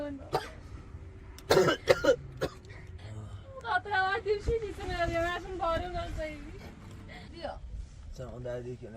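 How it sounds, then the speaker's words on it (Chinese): A boy with a cold coughs and clears his throat in harsh bursts, close and fairly quiet, while a voice talks between and over the coughs. "发现哥哥咳嗽得好厉害"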